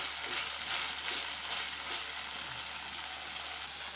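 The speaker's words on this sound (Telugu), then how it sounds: "ఇప్పుడు మనము ఇందులోకి 2 పచ్చిమిరపకాయలు కట్ చేసుకున్నాం కండి, ఇప్పుడు వీటిలో వేసేయండి." Chopped green chillies sizzling in hot oil in a pan for a cluster bean curry, a steady close hiss with faint stirring scrapes and no voices.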